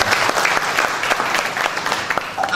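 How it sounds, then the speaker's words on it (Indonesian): A seminar audience in Temanggung breaks into applause, dense continuous clapping from many hands in a hall, fairly loud and steady throughout. "Tepuk tangan."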